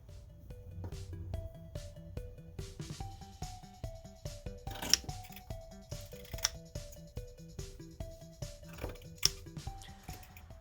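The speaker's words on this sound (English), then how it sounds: "I was able to just cut my shape out on the fabric" Quiet, close snips of scissors cutting fabric for gnome boots, repeated in a steady rhythm with small crisp clicks between cuts.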